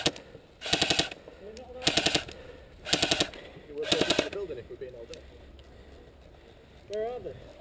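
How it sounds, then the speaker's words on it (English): A shooter at the back of a pub fires repeated bursts at an Anzio-themed snowy airsoft camp, four evenly spaced loud rattles about a second apart, with people talking quietly between and after them. "He gives himself away with his shooting."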